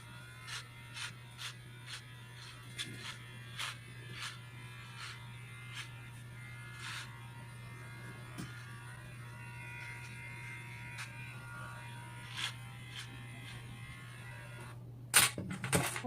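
Kids' hair clippers fitted with a 12mm guide comb trim a child's hair, giving a steady low electric hum throughout with repeated short crisp snips and brushing passes as the blades work through the hair, then a louder clatter at the end.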